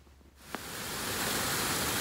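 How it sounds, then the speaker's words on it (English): Park waterfall rushing in a steady broadband roar that swells up within the first half second and then holds loud and constant, with a brief click near the start. "A waterfall."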